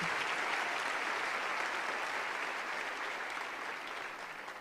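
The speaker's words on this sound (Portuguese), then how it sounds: "Dá um aplauso ao Senhor." Sustained applause from a church congregation fills the space, steady and dense for several seconds at moderate level with no talk over it.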